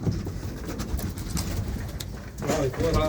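Pet pigeons of a fine breed kept in a backyard garden coo steadily amid busy outdoor noise, close by, with a voice briefly audible near the end.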